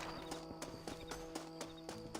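Horse hooves clip-clop in a steady rhythm in Red Dead Redemption, with regular close, clear hoof strikes over a continuous bed of game ambience and music.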